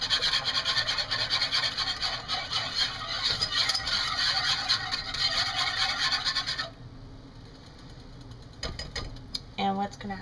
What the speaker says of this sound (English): just whisk it